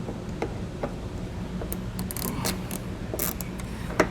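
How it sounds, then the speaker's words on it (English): Removing T15 Torx screws inside a 2020 car's wheel well while fitting a Roadmaster crossbar-style base plate kit, with repeated ratcheting clicks and small metallic ticks against faint background hum, close and without talk. "we're going to find that we have 5 T15 screws along here. We're going to go ahead and get those removed"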